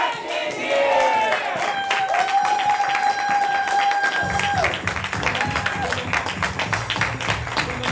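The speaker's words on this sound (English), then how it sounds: "we're going to yell, get back in here with a huge round of applause" Audience applause and cheering at a live improv comedy show, a crowd clapping and yelling as performers return, with tones and voices mixed in; loud and sustained throughout.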